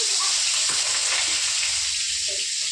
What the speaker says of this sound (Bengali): এখন এই যে মাছ ভাজবো বলে মাছে লবণ হলুদটা মাখিয়ে নিচ্ছি। এদিকে কড়াইতে তেল গরম হয়ে গেছে